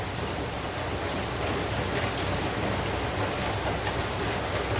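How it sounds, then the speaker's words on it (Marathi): Heavy rain pours down in a constant, dense hiss, loud and steady throughout with no pauses. "पावसाचा आवाज येतो आहे"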